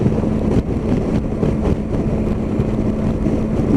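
Steady roaring wind buffeting the rider on a Yamaha Tracer 9 motorcycle at speed with the screen set low, dense and continuous with a low engine drone underneath, no voices.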